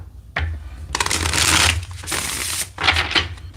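Tarot cards are shuffled by hand close up, several quick riffling bursts of crisp, fluttering card noise separated by brief pauses.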